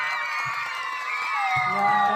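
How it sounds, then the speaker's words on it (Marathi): Crowd at a school dance performance by seventh-grade students, a steady wash of cheering and whooping voices with scattered applause, loud and continuous throughout. "जोरदार टाळ्या."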